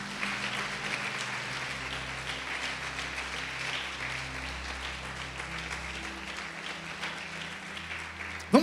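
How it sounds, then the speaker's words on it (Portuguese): Church conference audience applauding, a broad sustained wash of clapping lasting several seconds under a low background hum, with a sharp knock at the very end. "Pode aplaudir o Senhor e glorificar a Deus."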